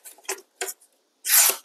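A sharpened knife blade slicing through sandpaper in a sharpness test, giving a few short dry rasping scrapes followed by one longer, louder tearing rasp, close up with no talking.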